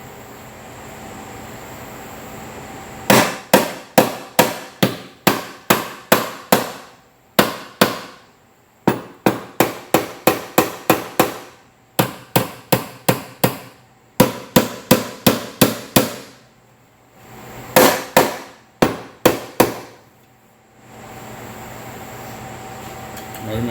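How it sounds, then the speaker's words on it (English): A heavy body hammer taps down the damaged cowl sheet metal on a 2005 GMC Sierra in quick bursts of sharp ringing blows, several strikes per burst, separated by short pauses, loud and close. "I'm going to start tapping this down. I'm going to try the light. Well, it's a heavy body hammer."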